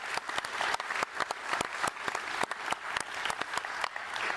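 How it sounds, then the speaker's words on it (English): Audience applause at a Scottish Labour conference, a steady wash of many hands clapping with sharp individual claps standing out throughout, with no talking over it. "I think we need a round of applause to the lassies of Scottish history"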